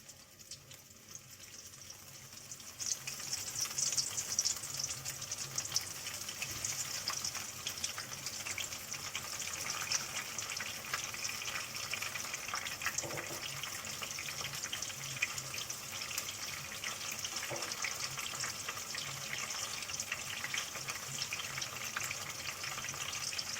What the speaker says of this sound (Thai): เราก็นำพริกที่คลุกแล้ว ใส่ลงไปได้เลยนะคะ